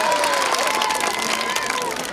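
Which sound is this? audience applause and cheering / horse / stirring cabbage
audience applause and cheering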